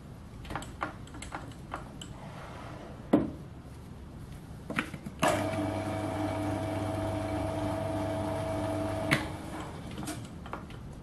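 A metal lathe turning at its slowest speed for knurling with oiled knurl rollers, a steady mechanical hum with a low drone lasting about four seconds in the middle, framed by scattered clicks and knocks before and after.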